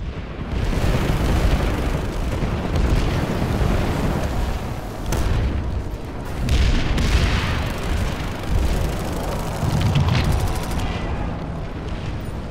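Anti-aircraft weapon fire and explosions in the Planetside video game: a dense, continuous barrage of loud booms and bursts rolling together for the whole stretch, with no talking over it.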